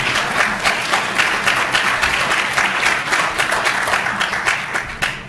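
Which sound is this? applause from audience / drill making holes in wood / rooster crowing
applause from audience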